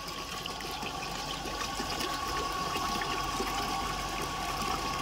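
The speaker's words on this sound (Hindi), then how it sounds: "जैसे ही मोटर ऑन होगा, देखिए कितना स्पीड से पानी दे रही है" An electric water pump motor runs steadily, forcing water through a pipe in a loud continuous rushing flow with a faint motor whine underneath and no talk.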